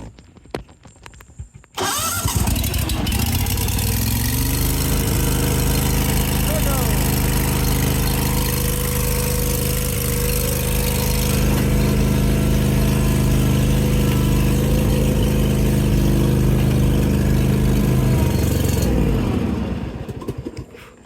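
A John Deere GT245 lawn tractor engine cranks briefly, catches and settles into a steady loud idle, running evenly close by for most of the time before cutting off near the end; a voice speaks over it.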